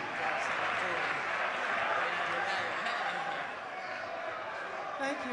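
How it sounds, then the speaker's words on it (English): Audience at a national science and maths quiz final claps for a performer, a broad wash of applause mixed with chatter and light laughter, steady and moderately loud. "A round of applause to Primetime MD."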